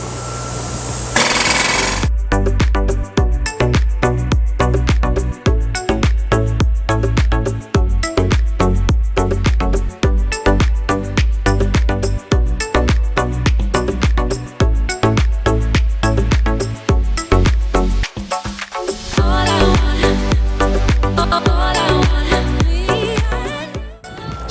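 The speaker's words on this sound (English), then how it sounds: "how we drill a hole into rock" A rock drill hammers loudly and continuously in rapid percussive bursts, with brief pauses between runs, close and harsh, drilling into rock during a Manhattan sewer repair.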